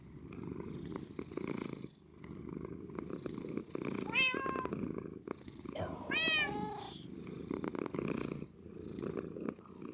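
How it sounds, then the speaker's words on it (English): A video game cat purrs in a steady, close rumbling rhythm, broken by two rising, drawn-out meows partway through. "and we will listen to purrs."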